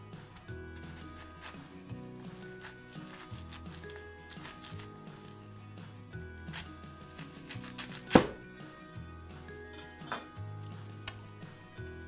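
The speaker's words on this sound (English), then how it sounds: "Stand the cabbage up and cut in half lengthwise." A knife cuts a stood-up cabbage in half lengthwise on a cutting board, giving soft, crisp crunching and slicing sounds at close range, with one sharper knock of the blade against the board partway through.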